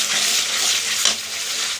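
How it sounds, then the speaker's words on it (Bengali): A spice paste with turmeric fries in a pan, a loud, dense sizzle with stirring scrapes heard up close and continuous until it cuts off abruptly. "আর পরিমাণ মতো হলুদ দিয়ে ভালো করে মশলাটাকে কষিয়ে নিই"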